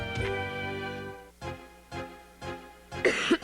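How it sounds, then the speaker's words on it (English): A series of four or five short, harsh coughs in quick succession after a brief sustained tone, fairly close and clear. "You've got a bad cough"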